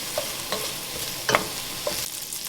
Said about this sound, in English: Still cooking this bacon.